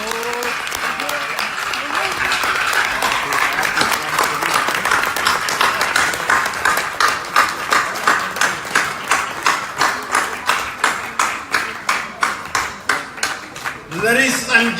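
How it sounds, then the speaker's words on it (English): Audience applause after a speech at a 2018 event in Gambia, starting as loud dense clapping that settles into strong rhythmic unison claps in the second half, with speech underneath. "another round of applause for Professor"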